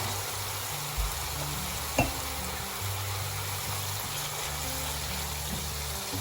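Masala for a shrimp kofta malai curry fries steadily in a pan, a soft continuous sizzle with faint stirring clinks and a low hum underneath, no voices.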